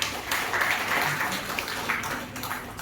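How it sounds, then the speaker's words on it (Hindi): An audience claps steadily through a lecture-hall program, a continuous wash of applause at moderate volume with faint voices mixed in. "जोरदार टाळ्या एकदा सरांसाठी होऊ द्या"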